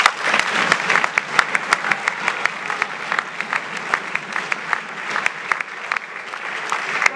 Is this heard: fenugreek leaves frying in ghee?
no